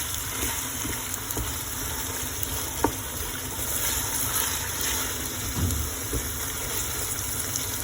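Meat curry fries in a pan with a steady, loud sizzle and bubbling, broken by occasional scraping knocks as it is stirred.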